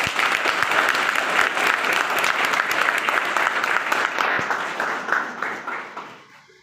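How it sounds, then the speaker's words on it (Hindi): A crowd at a book launch for a poetry collection claps loudly and continuously, a dense patter of many hands that thins and fades away over the last second or two. "आपकी तालियां कहाँ हैं?"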